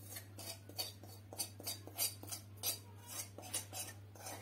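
A metal spoon scrapes and clinks rhythmically against a bowl while leftover ghee is stirred into a mixture for aloo paratha and a sweet, with steady repeated strokes over a low constant hum.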